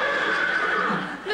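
A horse neighs in a comedy sketch, one loud close whinny with a wavering high tone fading after about a second.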